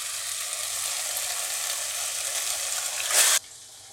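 Marinated chicken frying in a pan of softened onion and tomato gives a steady, close sizzle that swells into a brief louder hiss near the end, then drops away quickly.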